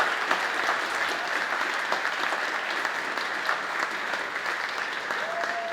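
Sustained applause from an audience at a county council awards ceremony as the winning students come up, dense steady clapping filling the room throughout with a faint voice or tone near the end.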